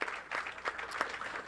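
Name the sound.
audience applause for bowler Brian McKinley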